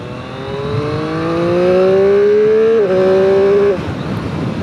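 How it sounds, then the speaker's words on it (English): A 2021 Triumph Street Triple 765 R motorcycle held in second gear revs up loudly and steadily, pitch climbing over several seconds, dipping briefly at a shift in load, then cutting off as the throttle closes. "We'll have a listen to that engine"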